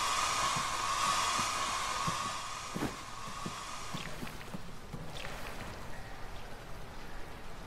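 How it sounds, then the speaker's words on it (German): A hair dryer drones steadily in the horror video game The Bathhouse, loud and continuous for the first few seconds, then fading and easing off into quieter room ambience with faint scattered ticks. "Wer hat den Föhn angelassen?"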